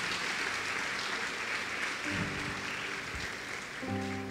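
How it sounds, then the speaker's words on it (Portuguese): A church congregation applauds Jesus with loud, steady clapping throughout, and a sustained musical tone enters partway through beneath the applause. "Você pode aplaudir Jesus"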